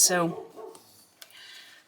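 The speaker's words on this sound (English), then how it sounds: "I apologize for the neighbor dog barking." A neighbor's dog barks outside on a spring day, coming in through open windows: one sharp bark at the start, then a faint yip and small whimpering sounds trailing off.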